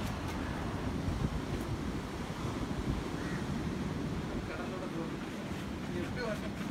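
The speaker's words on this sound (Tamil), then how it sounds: "கடல் வந்துருச்சு, குளிக்கணும்னா குளிச்சிக்கலாம்." Sea waves roll onto a beach near Pondicherry in a steady, rough wash, mixed with gusty wind noise on the microphone and a voice talking faintly in the background.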